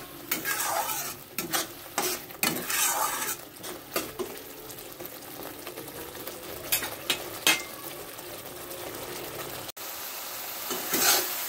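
Spice paste fries in a pan for a fish and potato curry, with a continuous close sizzle. A spoon scrapes and stirs it in repeated bursts, and no one speaks.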